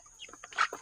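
Young chicks of Rhode Island and native black chicken stock, hatched in an incubator, give a few short, soft, close clucking peeps in a brief, quiet burst.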